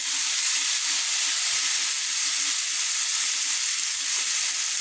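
Chicken malai tikka kebab sticks fry in hot butter and oil, a steady, dense sizzle that holds even and loud from start to finish with no voices over it.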